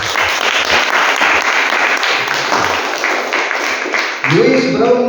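An audience at a monthly Shivanubhava religious programme breaks into sustained, dense applause, loud and continuous for several seconds.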